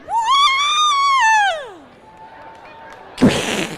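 A woman imitates an R2-D2 droid screech with her voice, a loud warbling electronic-style squeal that rises and falls for about two seconds. A short burst of crowd noise follows at a sports event.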